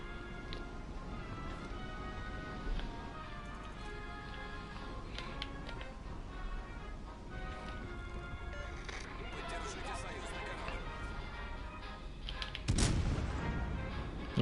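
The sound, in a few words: naval shells firing in World of Warships, video game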